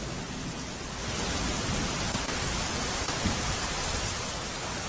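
Steady, dense rain hiss fills the whole stretch, loud and even, with a low rumble underneath and no voices, during a sudden downpour over Ahmedabad city.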